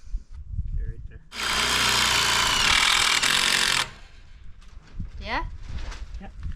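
A power drill drives screws into wood while building a dog fence outdoors, giving one loud, steady whir of about two and a half seconds. Quieter handling noise and a voice come before and after it.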